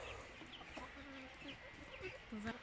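Chickens and roosters cluck and murmur softly while pecking at cabbage leaves and cucumber, short clustered calls close by over a quiet background, with a faint voice present.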